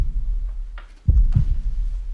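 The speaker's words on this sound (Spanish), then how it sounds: "Aquel rumor, lo reconocí al punto, era el latido del corazón del anciano" An old man's heart beats as a deep, thudding sound effect, with low pulses landing in a slow doubled rhythm over a dark, humming background.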